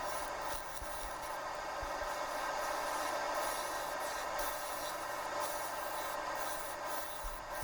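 A wood lathe hollowing out the inside of a reverse-mounted bowl gives a continuous, even hiss and scraping whir, steady in level from start to finish without speech.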